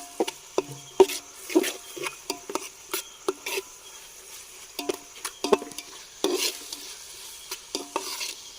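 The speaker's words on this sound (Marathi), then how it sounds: "टॉमॅटो टाकूया बारीक चिरलाय गंप्याने" Finely chopped tomato stirred in a pan for pav bhaji at an overnight creekside camp, a faint sizzle under frequent sharp scraping and tapping strokes of a spoon against the pan.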